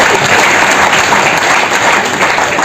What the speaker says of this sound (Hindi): एक बार जोरदार तालियां बजा दो इनके लिए।